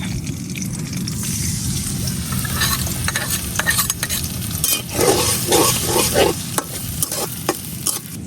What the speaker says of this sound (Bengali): আর খুব সুন্দর করে মশলাটা কষায়াম।